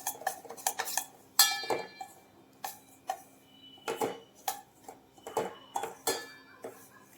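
Semolina (rava) being fried in ghee over a medium flame, with a spoon scraping and clinking against the pan in quick irregular bursts, close and fairly quiet with no voices.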